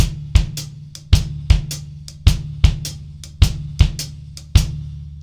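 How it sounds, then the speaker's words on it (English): Blues shuffle on a drum kit, bass drum paired with a swung hi-hat pattern, crisp ticking hats punctuated by deep kicks in an even lilting rhythm, close and unaccompanied by speech. "Then you could play the right foot with the hi-hat pattern"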